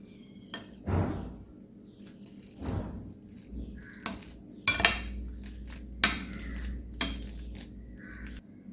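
Banana being mashed in a vessel for payasam: scattered knocks, scrapes and clinks of a utensil against the pot, several sharp taps spaced over quiet pauses, close and moderately loud with no talking.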